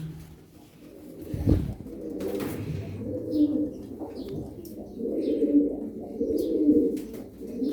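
Tumbler pigeons cooing in low, throaty rolling calls, repeated close by, with a few faint chirps and a brief flutter in the background.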